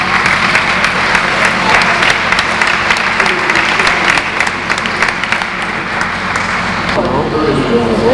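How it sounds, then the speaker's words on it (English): Dense audience applause at an Irish festival concert in Brockton, Massachusetts, in 1988, a steady loud wash of clapping that holds for several seconds, with some voices mixed in and a slight drop near the end. "Big round of applause here for Rita."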